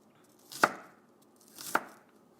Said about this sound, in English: I'm going to chop the garlic the same way